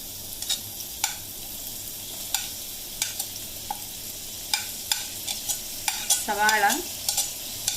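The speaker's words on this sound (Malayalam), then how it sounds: "അപ്പം ഇതിലേക്ക് ഉള്ളി ഇടുകയാണ്. അരിഞ്ഞു വെച്ചിരിക്കുന്ന സവാള," Chopped onions fried in a pan for a black chickpea curry, with repeated clicking stirs and scrapes over a steady low sizzle, one closer burst of spatula scraping near the end.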